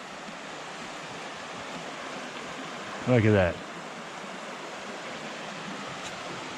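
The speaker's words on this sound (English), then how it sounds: "Right up next to the river now," Creek rushing beside a hiking trail in Cascade Canyon, Grand Teton National Park, a steady broadband water hiss up close, with someone briefly speaking midway.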